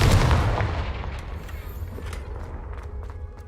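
A Confringo fire spell blasts in Hogwarts Legacy: a loud, close boom at the start that rolls off into a fading rumble, with faint scattered clicks afterward.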